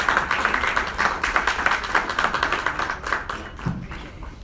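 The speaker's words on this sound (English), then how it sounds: "Please give her a round of applause" An audience applauds a speaker's mother, who fasts and cooks for people, at a campaign kickoff speech; steady scattered clapping rings out for about four seconds and then thins out.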